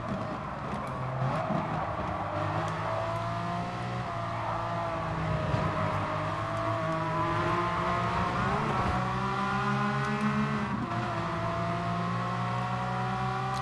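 Race car engines in Gran Turismo Sport, a continuous loud drone of several cars at high revs, pitch rising and falling through gear changes as they run onto a straight, with no talking.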